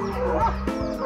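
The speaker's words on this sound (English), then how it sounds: "Dogs, give it a rest." Dogs bark outdoors near a bike route through the countryside, a couple of short barks over a steady background din within about a second.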